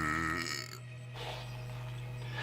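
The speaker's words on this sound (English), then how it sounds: "he burps and rumbles the earth" A giant's deep burp sound effect rolls out as a long, low rumble that starts strongly and settles into a sustained droning growl.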